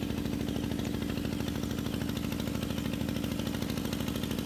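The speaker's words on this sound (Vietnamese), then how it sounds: "chủ vuông ta vừa nổ máy lên các bạn, nổ máy lên để người ta bơm" A water pump engine runs steadily at a fish pond, a close, loud, even rhythmic chugging that holds constant throughout with no talk.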